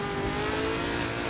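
A 1960s classic Jaguar engine held at full throttle in the Assetto Corsa racing game, a steady sustained drone with no break across the moment and no talk over it.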